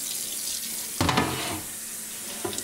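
Water runs steadily from an adjustable sink nozzle while dishes are rinsed, a constant hiss broken by a clattering splash near the middle and a softer knock at the end.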